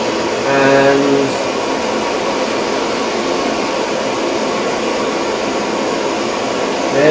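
A glassworking torch roars steadily as its flame heats a white glass rod, a loud continuous close hiss with a faint short tonal chirp near the start.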